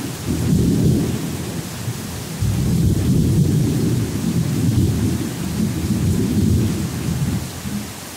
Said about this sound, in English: I ain't never heard such sharp thunder and lightning